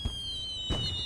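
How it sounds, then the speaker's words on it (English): Two quick firework pops burst in the video game Little Inferno, one at the start and one about two-thirds through, each sharp and fairly close against a quiet hum. "Set the fireworks off."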